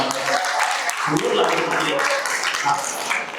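Crowd applause at an engagement ceremony, steady dense clapping sustained throughout with people talking over it.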